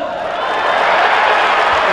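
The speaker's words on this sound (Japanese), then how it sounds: "ファンの皆さんの拍手も一層大きくなりました" Dense applause and cheering from a baseball stadium crowd during a hero interview, a steady loud wash of clapping that builds slightly over two seconds.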